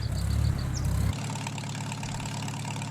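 A Farmall Super M tractor engine runs in Farming Simulator 19, a low chugging idle that is heavy for the first second before dropping to a quieter steady putter.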